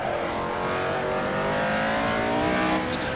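A 1975 Formula One car in the Assetto Corsa racing game, on the Südstrecke circuit, its engine powering out of a corner in a loud, sustained rising howl with no speech.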